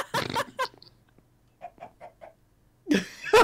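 Chicken clucking in Minecraft: four short, evenly spaced clucks in the middle, moderately close and clear, with brief bursts of other game noise before and after.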